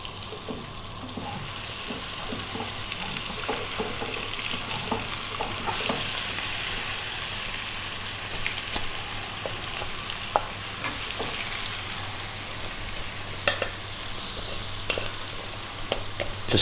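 A beef mixture for a beef fry cooks in a pan over medium heat, sizzling steadily throughout with scraping and stirring clicks scattered on top. The frying sound is close and continuous.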